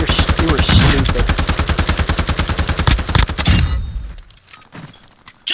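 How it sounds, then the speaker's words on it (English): Rapid automatic gunfire from a video game shooter rattles loud and close in a fast, even stream for about three seconds, then gives way to scattered thuds and quieter sounds. "someone's shooting at you!"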